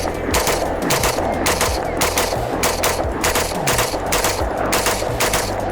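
Rifle fitted with a Franklin Armory binary trigger firing fast, continuous strings of shots outdoors, loud sharp reports packed closely in a steady rapid rhythm throughout.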